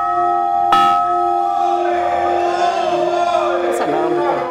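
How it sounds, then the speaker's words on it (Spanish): Church bells ringing at a fire station, bright sustained tolls with two sharp strikes, heard under shouting voices and crowd noise. "cuando se escuchan campanadas sin que alguien las hubiese provocado"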